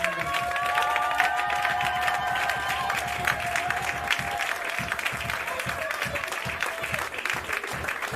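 A church congregation applauds with sustained, dense clapping that continues throughout, moderately distant and fairly faint, with a few voices mixed in.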